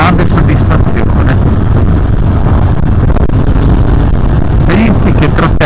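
A Harley-Davidson Fat Bob with its Milwaukee engine rumbles continuously while being ridden on the road, partly buried under heavy wind buffeting on the microphone.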